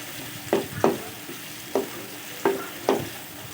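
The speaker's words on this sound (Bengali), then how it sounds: "এবার পেঁয়াজ কুচিগুলো আমি নেড়ে চেড়ে হালকা একটু তেলে ভেজে নিব।" Chopped onions being stirred and fried in a little oil, a soft continuous sizzle broken by five distinct scraping stir strokes spaced unevenly, heard close with no voices.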